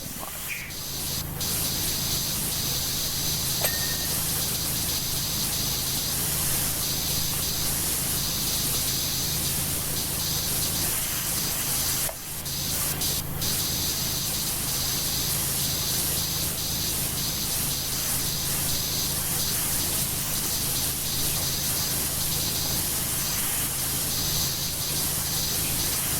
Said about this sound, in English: I've literally sprayed these so much